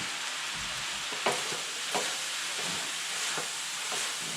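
Lobster Singapore noodles sizzle in a hot pan as fish sauce goes in, giving a soft, steady frying hiss. A few sharper scrapes and clatters of stirring pop up now and then.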